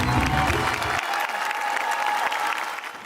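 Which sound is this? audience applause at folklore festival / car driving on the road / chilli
audience applause at folklore festival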